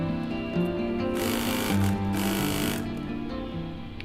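A sewing machine stitching a curved zipper pouch, running in a steady close-up whir with rapid needle rhythm and slight speed changes, no voices.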